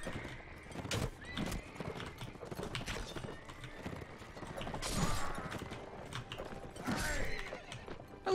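Horses neighing and whinnying amid a battle in Mount & Blade: Warband, several loud whinnies rising over galloping hooves, clanking and combat noise, fairly close and repeated throughout.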